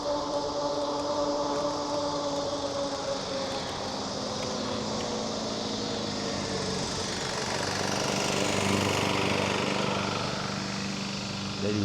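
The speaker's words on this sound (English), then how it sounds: "Lady's mowing her lawn late at night." A lawn mower runs late at night in a residential street, a steady engine drone heard from a moving bike, fairly faint and continuous, swelling slightly louder near the end.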